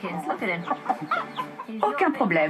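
Chickens cluck and chatter continuously at close range while a Labrador looks on, mixed with a brief bit of French speech.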